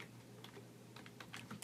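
Typing on a computer keyboard gives a quick, faint run of light key clicks, close and alone over a low background hum.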